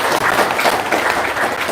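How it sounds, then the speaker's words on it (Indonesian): A crowd breaks into brief, thick applause, loud and close, with many hands clapping at once in a continuous burst. "Wow, tepuk tangan dong"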